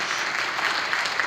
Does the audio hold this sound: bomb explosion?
no